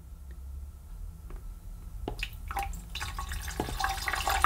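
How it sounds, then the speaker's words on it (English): Dirty solution is poured into the clean water tank of a Vax Platinum Power Max carpet washer, starting as quiet drips and building into a steadier close splashing pour. "pour this dirty solution in the clean water tank"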